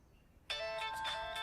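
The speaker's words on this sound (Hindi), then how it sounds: "ये उसी का फोन है।" A mobile phone starts ringing in a quiet indoor film scene, a clear electronic ringtone melody beginning abruptly after a near-silent moment and continuing steadily.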